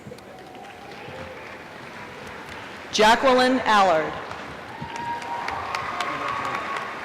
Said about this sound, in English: the audience is invited to applaud our candidates